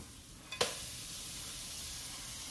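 A rice paper omelette frying in a pan right after being flipped, a brief scrape and thump followed by a steady, close hiss of sizzling oil.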